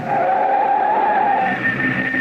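A car brakes hard in a radio drama, its tires giving one sustained, loud, wavering skid squeal that holds for about two seconds and then starts to fade.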